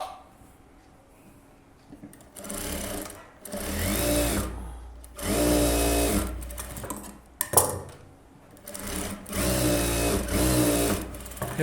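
A sewing machine stitches a blouse in several close, loud runs lasting a couple of seconds each. Brief pauses and small clicks separate the runs, and no one speaks.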